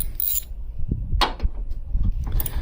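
Wrench work loosening a bolt on a Nissan Frontier, giving irregular close mechanical clicks, scrapes and metallic rubs with a few brief bright rasps, no talking.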